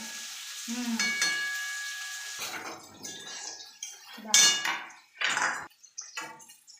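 Food frying in ghee in a pan, with bursts of sizzling and stirring scrapes in uneven clusters, close by, while someone talks intermittently.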